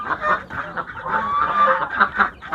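Ducks of a breed similar to the Pekin duck kept on a mixed farm, giving loud, nasal honking quacks in a quick, uneven series close by, with no voices over them.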